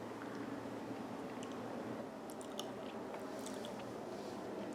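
Someone chews a bite of homemade gingerbread loaf up close: soft, continuous munching and faint moist crunching, quiet and steady, with no talking.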